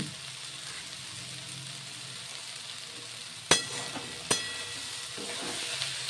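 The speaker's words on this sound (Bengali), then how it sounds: "ভালো করে নাড়াচাড়া করে মিশিয়ে নেব হালকা হাতে" Fried brinjal being stirred into methi greens in a pan, a steady soft sizzle with two sharp utensil knocks against the pan in the second half.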